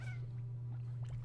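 Cat-like slimes in the Slime Rancher video game give a few short, faint meows over a steady low hum of game background sound.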